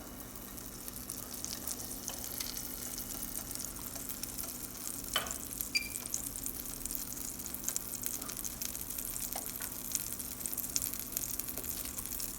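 Butter melting in a heated pan while making a cheese bread omelette, a faint steady sizzle and hiss with a few small pops, quiet and alone with no talk.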